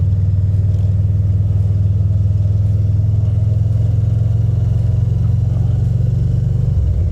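A Harley-Davidson V-Rod motorcycle runs with a steady, loud, deep engine drone while being ridden, with no talk over it.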